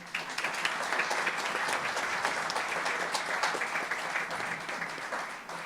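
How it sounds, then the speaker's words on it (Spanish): Sustained applause from an audience at a psychology discussion event on gender violence, a dense even patter of many hands clapping for several seconds at steady loudness, with no talk over it. "pido que un aplauso para ella"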